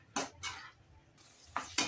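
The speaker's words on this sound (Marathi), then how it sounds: "खिमा मसाल्यामध्ये छान परतवून घ्यायचा" Chicken kheema stirred and fried in spices in a pan, heard as four separate scraping, sizzling strokes of a spoon, the first two close together and the last two near the end, with a quiet pause between.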